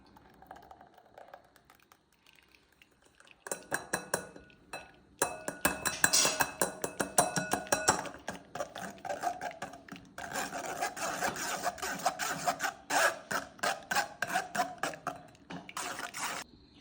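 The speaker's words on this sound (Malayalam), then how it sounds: "നമ്മൾ ആവശ്യത്തിന് വെള്ളമൊക്കെ ഒഴിച്ചിട്ട് ഇത് അരച്ചെടുത്തിട്ടുണ്ട്. അപ്പോൾ അതിന് നമുക്കിത് അരിച്ചെടുക്കാം." Ground paste thinned with water is strained through a strainer, giving quiet, rhythmic bursts of scraping and clinking that start after a short hush and repeat in quick strokes, with no voices.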